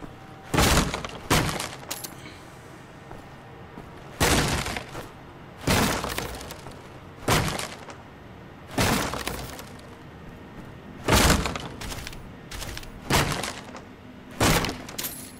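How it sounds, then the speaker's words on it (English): Wooden boxes being smashed in the video game Wolfenstein: The New Order, sounding as a series of about ten sharp, loud breaking crashes spaced irregularly, each splintering burst standing alone against a low background. "The laborious task of smashing boxes."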